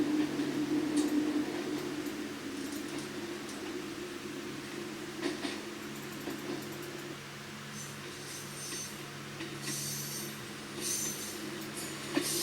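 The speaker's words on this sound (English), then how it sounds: "For 5 miles, the train travels alongside the Dyfi estuary." A train runs alongside the Dyfi estuary in Wales, giving a steady, moderately quiet rumble of wheels on rails with some hiss and brief higher squeals near the end.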